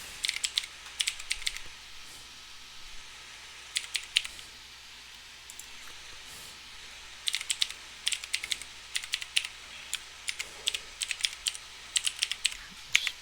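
Fingers typing on a computer keyboard while filling in a registration form, bursts of quick close clicks separated by short pauses, alone with no talk.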